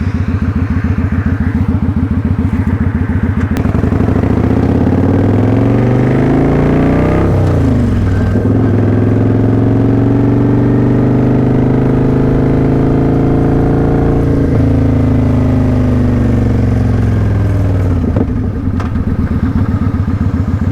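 A motorcycle carrying riders on a cold evening roars loud and close, its engine pitch climbing and falling through repeated throttle changes and gear shifts, with a steady drone underneath throughout.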